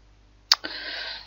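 A single computer mouse click, sharp and close, followed by a short faint hiss. Nothing else is heard around it.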